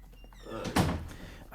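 A door is opened indoors to let a cat out, a single dull thunk of the door with a brief rattle, close by, amid quiet room noise and faint voices.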